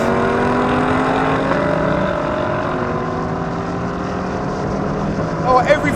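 Lexus LC500 and Jaguar F-Type P380 accelerating hard side by side in a drag race, loud engines climbing steadily in pitch for several seconds with wind rush, under excited talk from the driver.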